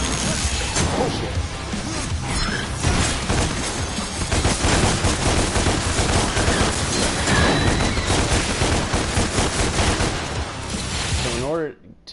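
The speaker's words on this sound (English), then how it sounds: "Ebony and Ivory. High caliber handguns capable of maintaining high rates of fire against single fighters" Ebony and Ivory twin handguns in Devil May Cry firing rapidly amid dense, loud game combat, with crashes and impacts layered over continuous action before cutting off near the end.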